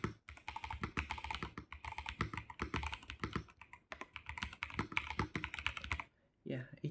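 Rapid, steady typing on a VGN N75 mechanical keyboard during a typing test, a dense run of close, crisp keystrokes for about six seconds before a short pause and a few final presses.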